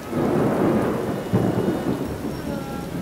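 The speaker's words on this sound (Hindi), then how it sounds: "बारिश बहुत तेज है" Heavy rain pours steadily while thunder rumbles low and long underneath, loud and close, with no voices.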